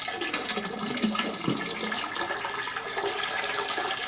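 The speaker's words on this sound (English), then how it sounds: "So we'll just have her pour it down the toilet." Dirty water from a vacuum's water basin is poured down a household toilet, a steady rushing, gurgling pour close by, continuous across the whole stretch with a few louder splashes.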